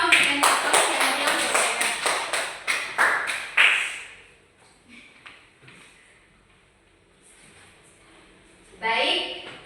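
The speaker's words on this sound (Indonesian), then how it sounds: "Mari kita sama-sama berikan tepuk tangan." Classroom applause after a group presentation, a run of brisk claps from a small group lasting about four seconds and fading into quiet room noise, with a voice speaking near the end.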